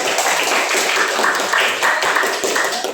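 An audience at a motivational training session on recognising one's potential claps together, a dense, steady patter of hands lasting about three seconds with no clear pauses.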